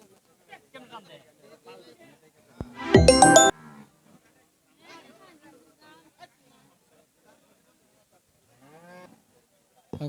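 One loud, close cow moo bursts out amid otherwise quiet surroundings at a cattle market in Mirzapur, Tangail, with scattered soft speech before and after.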